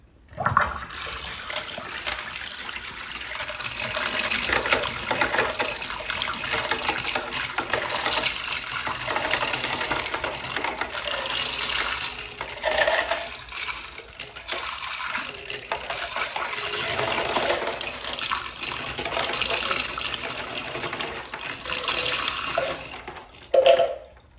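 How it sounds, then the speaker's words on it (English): A toilet flushes using only its siphon jet with marbles in the bowl, a loud steady rush of water running for over twenty seconds before ending abruptly. "we're going to do some siphon jet only flushes and returning with the marbles"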